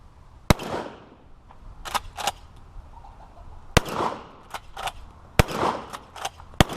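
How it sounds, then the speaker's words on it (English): A Ranger lever-action shotgun fires several sharp, loud reports at irregular intervals, with metallic clacks of the lever being worked between shots. "We're just going to blaze away a few rounds just to have a feel, get an idea of how the lever works"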